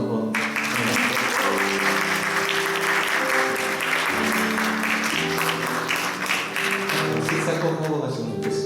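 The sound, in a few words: congregation applauding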